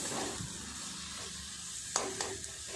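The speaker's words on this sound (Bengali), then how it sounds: "এইভাবে নেড়ে নেড়ে আর একটু শুকনো করে নেব" Chop filling is stirred and dried in a hot pan, giving a soft, continuous sizzle with a few light taps of the spoon against the pan near the end.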